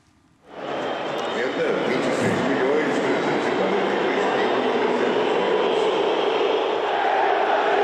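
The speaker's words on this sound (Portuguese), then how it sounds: "temos as vaias da torcida?" Flamengo supporters booing at the Maracanã stadium during a football match: a loud, sustained crowd roar that swells in after a short silence and holds steady, dense and distant-sounding, with no clear individual voices.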